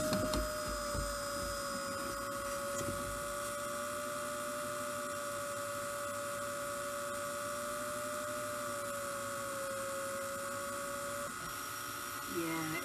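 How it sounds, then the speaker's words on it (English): A VCR strains while running a video head cleaner tape, giving a steady mechanical whine and drone that lasts throughout with little change, while people talk in the room. "my VCR does not like this kind of video head cleaner"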